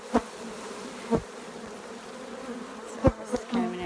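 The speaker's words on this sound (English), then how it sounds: "it might be a cloud of bees going crazy here in a minute when I open up that second hive." Steady honey bee buzzing around a hive hums throughout, broken by a few sharp knocks and clatters nearby as the hive is opened; no one speaks.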